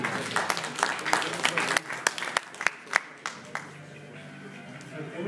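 Audience applause greets Vahdi Okudu, a sports veteran presenting an award at a tribute night for masters, with dense clapping that thins and fades toward the end.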